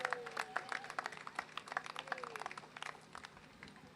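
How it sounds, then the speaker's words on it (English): Community crowd at a National Night Out event at the 73rd Precinct applauding outdoors, quiet and somewhat distant clapping with scattered sharper claps and faint background voices. "Give each other a round of applause."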